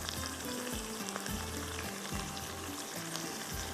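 Chopped onions sizzle in a pan over moderate heat, a steady bed of fine frying crackle with soft stirring scrapes, quiet and continuous, no voices.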